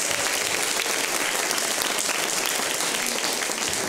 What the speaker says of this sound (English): Just give God a hand clap of praise this week,